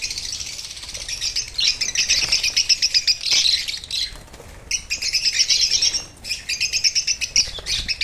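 Pet birds released into a room chirp and twitter in busy, fluttering bursts, close and fairly loud, with occasional wing flapping and brief pauses.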